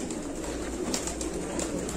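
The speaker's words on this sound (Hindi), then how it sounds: "कबूतर इधर है।" Pigeons cooing among a flock of prized fancy pigeons at a loft, a steady murmur of soft, overlapping calls over constant low background noise throughout.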